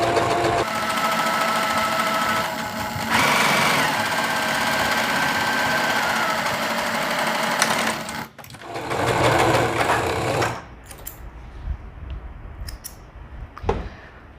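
A sewing machine stitches the side seam of a flared tailored skirt down to the hem: a steady, close motor whir for about eight seconds, a brief break, another burst, then quieter handling sounds.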